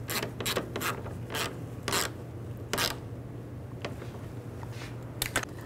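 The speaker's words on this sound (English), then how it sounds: "put the bolt in, and snug it down" Bolt snugged down by hand on the washer filler neck of a 2006-2012 Ford Fusion, a series of short rasping ratchet strokes in irregular bursts, close and fairly quiet over a steady low hum.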